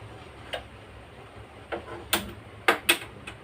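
A handful of sharp clicks and ticks, spaced irregularly, like a gas stove knob being turned and an igniter snapping, close up in a quiet room.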